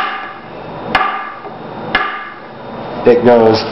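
The spine of a Sanrenmu 730T liner lock folding knife is smacked against a 2x4, giving two sharp, close knocks about a second apart, followed by a brief rattle and a voice speaking at the end.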